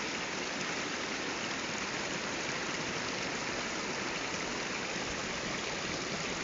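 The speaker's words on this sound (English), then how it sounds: "Got this stream going. Winter runoff from all the snow." A mountain stream fed by winter snow runoff rushes loudly and evenly nearby, a dense, unbroken wash of water with no voices.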